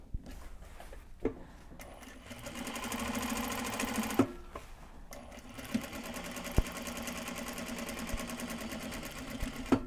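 A sewing machine stitches Japanese fabric bags in steady, close bursts of rapid mechanical whirring, with brief stops and small clicks between runs.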